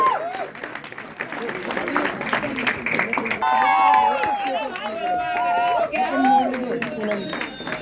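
A crowd claps and cheers at the Tamasha Live grand premiere in Pune. The loud, noisy applause fades under a voice speaking over it.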